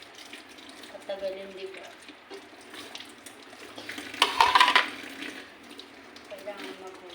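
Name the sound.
washing dishes with running water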